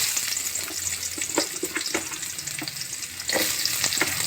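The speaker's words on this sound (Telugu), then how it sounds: "ఇప్పుడు ఆనియన్స్ వేయించుకోవాలండి." Onions frying in oil in a home kitchen pan, a steady broadband sizzle with scattered crackles and pops, growing slightly louder toward the end, with no talking.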